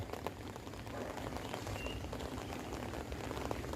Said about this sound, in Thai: วันนี้ฝนตกครับ